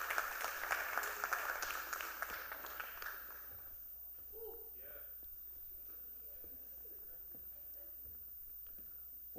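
An audience at a youth town hall claps for a 30-year-old doctor called up to the stage; a burst of applause fades out after about three seconds, leaving quiet room noise and faint voices.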